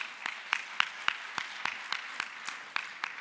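At the Miami Book Fair, a few people clap slowly in a steady even beat, about three or four crisp claps a second, quiet and spaced out over a low background hush.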